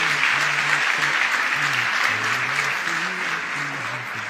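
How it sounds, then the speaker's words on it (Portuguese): Loud, sustained applause from a crowd, dense clapping throughout, with a low voice murmuring underneath. "Uma salva de palmas pro Lorenzo Marçal."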